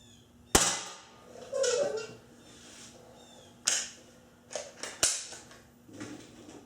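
Ruger Mark 1 pellet pistol firing cheap Crosman hunting pellets, several sharp close cracks spaced a second or more apart, each followed by softer clicks and handling noise from reloading.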